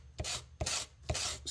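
Three rough scraping strokes of a small plastic model starship piece (U.S.S. Enterprise, 1:650 scale) rubbed across sandpaper laid on a table, each a short rasping push, close up and evenly paced.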